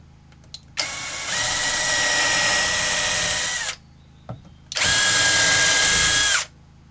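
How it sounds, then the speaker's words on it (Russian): A power drill bores into wood while wild furniture is built in the taiga: two loud, close whirring runs, the first about three seconds long and the second shorter, separated by a brief pause with small handling knocks. "Сейчас надо засверлить."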